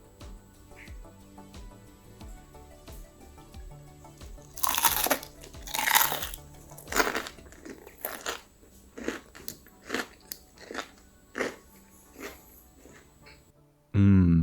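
Crispy onion pakora bitten and chewed up close, a run of sharp, loud crunches in quick succession, then slower spaced crackling chews, ending with a sudden loud thump.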